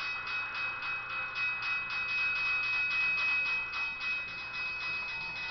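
Autorack rail cars pass by in the Trainz Simulator 12 video game, a steady loud rumble with a rhythmic clatter of wheels over rail joints.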